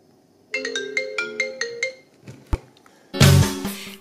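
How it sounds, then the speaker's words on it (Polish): A phone rings with a bright melodic ringtone: a run of rapid repeating chime notes, then a short pause, a clunk and a burst of louder ringing, close and clear with no talk. "Słuchaj, Czarek, dobrze, że dzwonisz"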